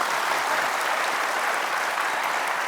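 A studio audience at a television talk show breaks into sustained, dense applause, a steady wash of many hands clapping at even loudness throughout.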